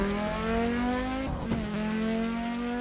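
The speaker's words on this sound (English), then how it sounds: "Behind the wheel of the legendary Audi Sport Quattro 1984R, Mig takes on the challenge of taming its 540 horsepower." An Audi Sport Quattro 1984R race car with 540 horsepower accelerates hard, its engine note rising steadily in a loud, close, continuous roar with a brief shift-like dip midway.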